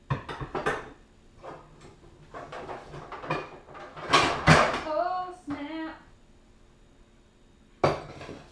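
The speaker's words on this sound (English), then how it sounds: "I'm gonna get the pan on the stove." A frying pan set onto a kitchen stove while cooking aloo curry: several sharp metallic clanks and scrapes, followed by ringing tonal resonances from the pan, close and fairly loud, with a final clatter after a pause.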